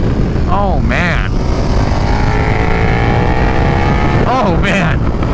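A 2022 KTM 1290 Super Duke R with a BT Moto flash tune accelerates hard and lifts its front wheel. The engine roars loud and close through rising gear pulls, with wind rush and a rider talking over it.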